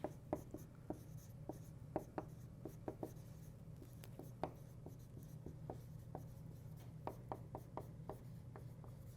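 Pen or pencil writing by hand on paper, a steady run of faint scratchy strokes and taps at close range over a low steady hum, with no talking.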